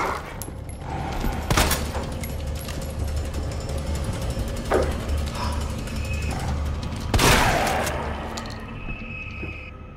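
Shotgun fire against zombies in Resident Evil 2, a few sharp, heavy blasts spaced seconds apart over game ambience and mechanical clatter, loud and close.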